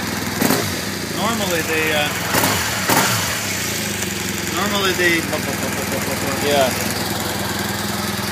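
A new LC motorcycle engine with its standard exhaust idles at a steady, even low hum throughout, with occasional brief knocks while someone talks over it.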